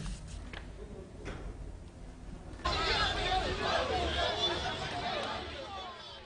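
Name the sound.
crowd of supporters chanting at a campaign rally in Uganda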